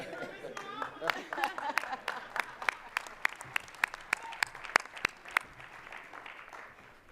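Scattered, fairly sparse hand claps from an audience at a 2025 Martin Luther King Jr. birthday celebration, honoring Brian Gatewood and his mother; distinct individual claps ring out over a murmur of voices, then thin out and stop near the end.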